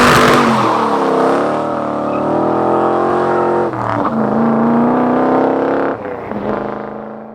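A loud, steady rebuilt 454 V8 engine, bored to 467 cubic inches, revs and holds at high pitch on a dyno, with brief dips in throttle around a few points, a sustained roaring run close by.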